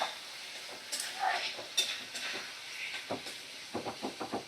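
Spice paste with sour yogurt sizzles in oil over a medium flame for goat liver chachchari, with a steady hiss and a run of quick, rhythmic scraping strokes from the stirring spoon near the end.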